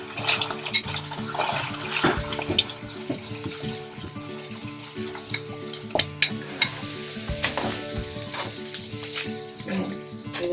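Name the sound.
sausages frying in oil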